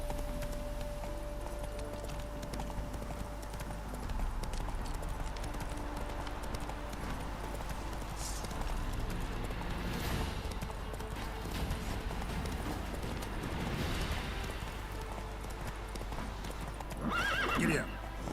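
Horse hooves clip-clopping at a gallop in the Witcher 3 video game, with a clear neigh near the end, steady rhythmic hoofbeats under faint game ambience.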